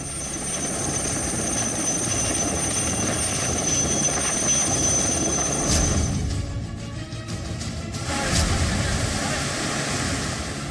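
A rescue helicopter hovers over Kerala floodwaters during an airlift, its steady rotor and engine roar loud and continuous throughout, with a brief dip in the middle before the drone returns at full strength.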